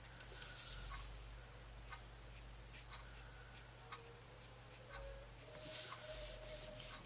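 A Copic marker in BG34 colour rubs and scratches across paper in short, soft strokes, faint and close, with brief pauses between strokes and no talking.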